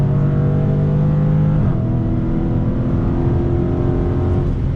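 A Dodge Challenger SRT muscle car accelerates hard out of a turn on throttle, its loud engine roar rising steadily, with a brief dip at a gear shift before it climbs again, continuous and close.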